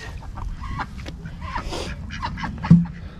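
Ducks quacking and muttering nearby in scattered calls, with soft shuffling and background noise.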